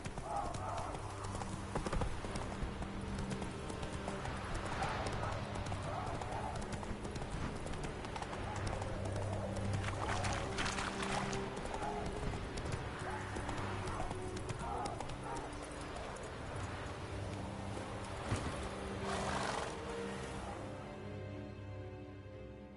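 Horse hooves clip-clop steadily in The Witcher 3 as a rider travels on horseback, a continuous rhythmic trot mixed with game music and ambience, with an occasional whinny.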